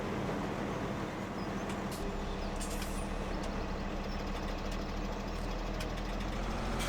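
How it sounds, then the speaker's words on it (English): A vehicle engine idles in the video game Farming Simulator 17, a steady low rumble with a constant knocking texture that runs unbroken throughout. "I'll leave engine running."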